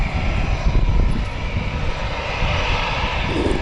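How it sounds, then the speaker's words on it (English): Fixed-wing airplane taking off from an airfield in Malta, its engine a loud, steady roar that holds throughout with a broad low rumble and no talk. "shortly you're gonna see that plane leaving the airfield"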